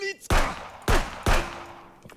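Three sharp gunshots fired in the police-inspection video game Contraband Police, evenly spaced and loud, each with a short decaying tail.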